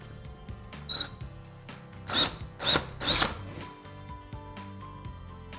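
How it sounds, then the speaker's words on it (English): Power drill fitted with a 1/4-inch bit boring into drywall at a spot with no stud behind it, three short whirring bursts close by in an otherwise quiet room. "I'm using a 1/4-inch drill bit."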